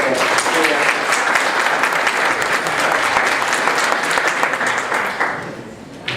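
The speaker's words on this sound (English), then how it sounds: "I want to give them a round of applause." An audience at a county executive campaign event breaks into a loud, dense round of applause that continues steadily before tapering off near the end.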